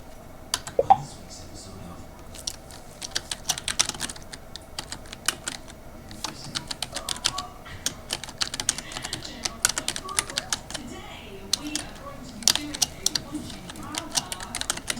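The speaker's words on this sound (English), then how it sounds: "I was just typing somewhere" Keys clattering in quick irregular bursts on a computer keyboard, close and crisp, with a few pauses between runs.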